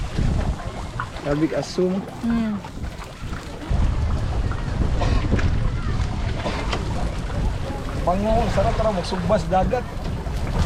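Strong sea wind buffets the microphone in loud, steady rumbling gusts throughout, on open water off Bantayan, Cordova, Cebu, while several people talk over it.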